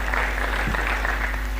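An audience at a climate hackathon event gives a steady, full round of clapping for presenting team members, the applause filling the room evenly under a low background hum.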